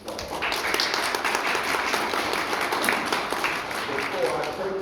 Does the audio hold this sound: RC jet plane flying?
no